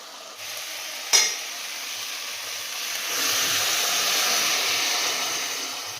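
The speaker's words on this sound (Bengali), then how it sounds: "দেখো এইবার দেখো সবজিটা ভাজা ভাজা হয়ে এসেছে মশলাটা দিয়ে একটু কষতে হয়" Constant sizzling hiss of vegetables frying with spices in a hot pan, with a brief clink early on and the sizzle growing louder partway through.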